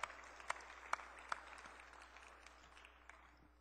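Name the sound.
congregation's welcoming applause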